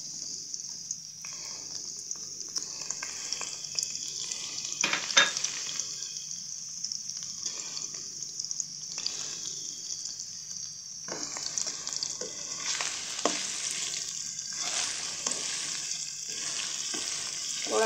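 Finely chopped onions fry in hot oil for a vegan fried potato dish, producing a loud, continuous close-up sizzle with intermittent stirring scrapes and no talk.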